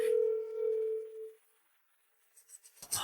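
A long telephone ringing tone while calling a school: one steady electronic tone for over a second, then quiet, followed by faint rustling and a short burst of other sounds at the end.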